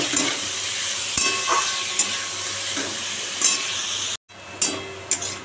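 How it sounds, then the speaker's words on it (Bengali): Capsicum and sweet potato fry in a pan with only salt and turmeric, a close, steady sizzle punctuated by sharp clicks and scrapes of a spatula stirring against the metal, with a brief gap near the end. "দেখো এবারে লাল লাল করে ভাজছি"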